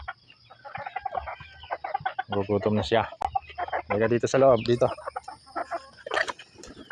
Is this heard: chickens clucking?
yes